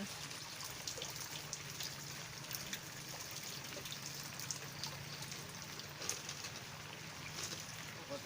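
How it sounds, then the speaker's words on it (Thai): Steady rain falling outdoors near a rice field and ditch where fish are being netted, a dense, even patter with scattered louder drops throughout, no talk. "ฝนตก"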